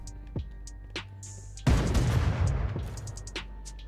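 Crossbow shooting outside in Rust, a sudden loud burst of shots that rings out and fades over a couple of seconds, preceded by faint scattered game noises.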